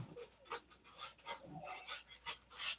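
Rhythmic rasping strokes of 80 grit sandpaper working over a model aircraft fuselage, close and fairly quiet, each pass rising and fading in a steady back-and-forth pattern.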